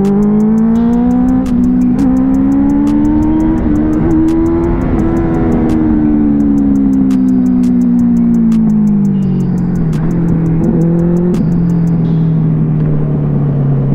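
A Kawasaki Z900 superbike with a custom exhaust, ridden in Ajmer, roars loudly and close with a continuous engine drone that climbs and falls as it revs, with rapid ticking pops over the top.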